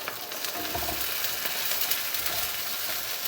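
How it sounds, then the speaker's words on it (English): Garlic and ginger paste hits browning onions in a hot pan for a curry sauce, giving a loud continuous sizzle and spitting with some stirring. "We need to move quite quick and get the garlic and ginger paste in there."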